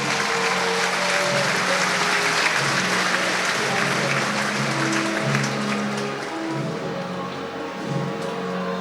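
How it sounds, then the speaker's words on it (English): An audience at a championship show gives the judges a long, steady round of applause, loud and even throughout, with faint tones in the background. "An applause for our judges"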